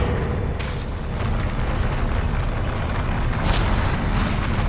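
Confringo blasting-curse explosions in Hogwarts Legacy boom loudly against a dense rumbling backdrop, with one sharp burst early and another near the end, no voices over them.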